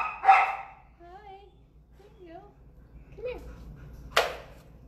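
At an animal shelter, a dog gives a sharp bark, then several higher yelping whines and whimpers, followed by another loud bark near the end, close by against a faint background hum.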